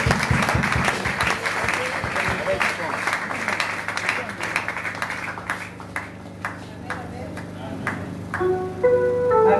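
A church congregation applauding to acclaim the Lord, a sustained wash of many hands clapping that thins toward the end, with a few cheers and a voice speaking over it.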